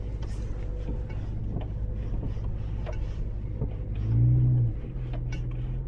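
A car engine rises in a brief, steady rev as the driver eases onto the gas during a slow driving lesson, a low hum that swells near the end under constant wind and road noise.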